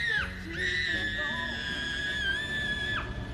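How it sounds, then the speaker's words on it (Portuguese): A girl screams in desperation in a dubbed action film, a long, loud, high shriek sustained for about three seconds with a short break near the start, rising and falling in pitch. "acordei com um grito de desespero"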